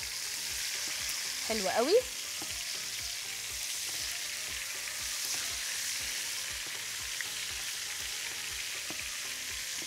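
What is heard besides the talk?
chicken frying and sizzling in a pot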